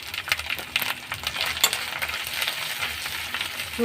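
Ground coriander and cumin powder stirred in a frying pan for a paneer curry, a steady sizzle broken by scraping spoon strokes and light clinks, close and continuous with no talk.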